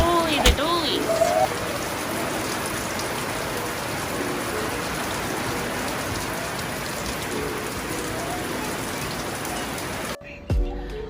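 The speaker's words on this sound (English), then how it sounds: "It's absolutely pissing down." Heavy rain pours down in Kingscliff, New South Wales, a dense, loud, continuous roar of drops hammering surfaces, with a brief voice at the start and the downpour cutting off abruptly near the end.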